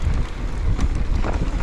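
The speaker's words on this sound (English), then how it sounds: "So windy here." Wind buffets the microphone on a fast, loose mountain bike trail ridden on a YT Decoy SN e-bike, a steady loud rumbling whoosh with no voices.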